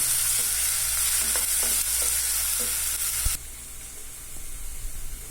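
Slit green chilies frying in a pan for chicken curry, a loud continuous sizzle with stirring scrapes, easing to a quieter sizzle after a sharp knock midway.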